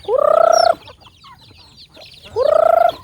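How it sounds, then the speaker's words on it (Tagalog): Two loud, close calls from chickens, each a drawn-out, strained vocalization about half a second long, separated by quieter clucking and rustling. "aming mga manok"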